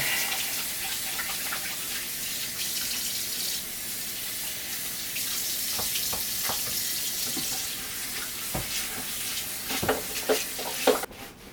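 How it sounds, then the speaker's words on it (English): Tap water runs steadily into a kitchen sink while hands, a knife and a cutting board are washed, a continuous close rush with occasional splashes and clatters, ending in a sharp knock. "Wash the knife, the cutting board, and our hands"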